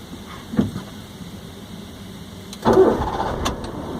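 A manual car's engine starts during a driving lesson in India. Faint handling noises come first, then a sudden crank and catch settles into a steady idle rumble.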